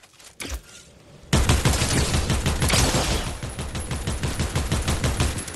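Rapid Fortnite gunfire in the video game, a couple of isolated shots followed by a long, dense burst of automatic fire that stays loud and close, with no talking.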